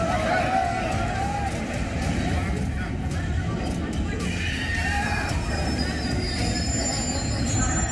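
The Saharsa–Pune Express rolls into Danapur station amid Mahakumbh crowds, its wheels rumbling and squealing steadily under a dense babble of many voices.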